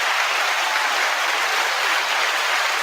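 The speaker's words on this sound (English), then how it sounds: "I will give a hand clap for that." A hand clap of praise on a sports talk show comes as a steady, dense wash of clapping or applause, even and unbroken throughout, with no voices.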